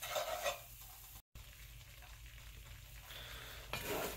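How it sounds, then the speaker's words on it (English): A dark roux of flour and fat for gumbo sizzles softly in a pot while being stirred, an even, close frying hiss with a brief dropout partway through and no talking. "Keep a close eye on your roux while it's cooking"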